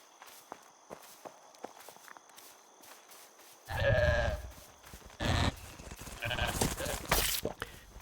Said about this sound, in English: Listen, goats.